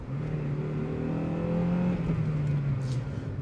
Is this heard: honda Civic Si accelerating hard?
yes